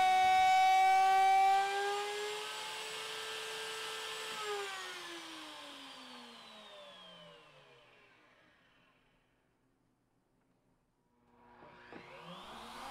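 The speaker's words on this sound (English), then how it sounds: "Here I'm using a straight bit to hog out the majority of the material." A router with a straight bit hogs out a sliding dovetail slot in a pedestal table leg: a loud, steady, high motor whine that winds down, falls nearly silent, then gives way to faint clatter.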